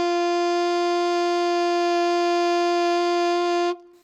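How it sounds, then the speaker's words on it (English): A single sustained middle D on an alto saxophone holds steady and bright for almost four seconds, then cuts off cleanly into near silence. The note is played alone, with no talk over it. "And here's that middle D, and that sounds like this."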